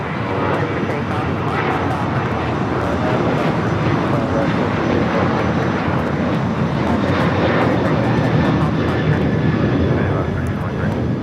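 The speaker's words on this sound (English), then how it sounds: "1323 taking off to Cancun, Mexico on the 737-800" An Alaska Airlines Boeing 737-800 takes off from LAX, its jet engines giving a continuous, loud, broadband roar that stays steady and powerful throughout.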